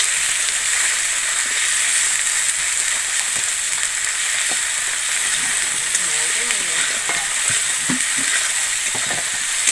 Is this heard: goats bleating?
no